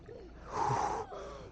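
Heavy, strained breathing comes from a swimmer in ice water at minus 10.5°C: a close, rasping inhale-exhale swelling loud for about half a second, then easing, with no speech.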